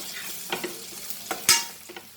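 Cumin seeds sizzle and crackle in hot oil as taro root masala is cooked, with a steady frying hiss broken by several sharp pops and a louder spatter near the middle, close by and without speech.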